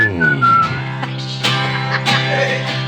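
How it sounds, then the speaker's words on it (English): A person whistles a bright tune with clear sustained notes and quick slides, loud and close, a few short breaths or mouth noises between phrases and no talking. "Damn, that's good whistling."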